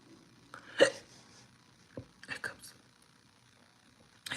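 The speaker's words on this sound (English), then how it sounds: "Hiccups." A woman hiccups a few times during a casual live makeup session, each one a short, sharp catch of breath, with quiet pauses between them and soft background sound.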